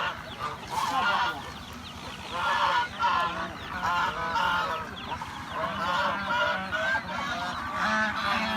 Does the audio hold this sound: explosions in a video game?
no